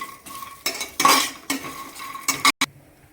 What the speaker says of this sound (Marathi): छान 1 ते 2 मिनिटं आपण हे व्यवस्थित मिक्स करून घेऊ।